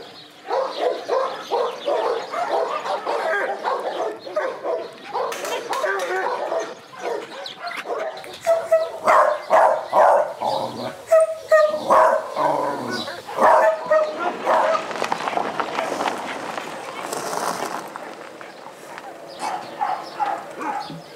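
A shelter dog barks and yips in short bursts, fairly close, with a person talking softly in French in between.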